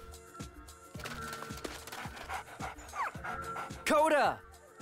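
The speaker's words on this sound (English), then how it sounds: "Can you pet the dog?" A dog in the video game Enchanted Arms pants in quick breathy bursts while being petted, ending in a few whimpering yips. The sounds run quietly under game audio that includes voice-like sounds.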